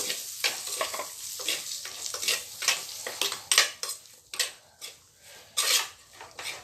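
Eggplant sautéing in a pan with coriander, chili, turmeric and asafoetida powders for brinjal tamarind kuzhambu: a steady light sizzle broken by repeated close scraping stirs of a spoon against the pan.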